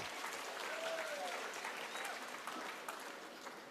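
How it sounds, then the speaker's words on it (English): An audience at a business school event in Bangalore applauds, a continuous, fairly distant wash of clapping that fades slightly toward the end, with faint voices underneath. "Round of applause for yourself."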